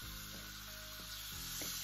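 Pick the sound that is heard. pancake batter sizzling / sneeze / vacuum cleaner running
pancake batter sizzling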